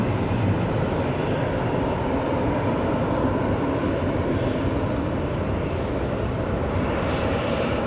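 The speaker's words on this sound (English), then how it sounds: "There's the Ryanair we just saw land," A Ryanair airliner taxis at Edinburgh Airport on a summer evening, heard as a steady, broad engine rumble and roar that holds even throughout, fairly loud and with no voices over it.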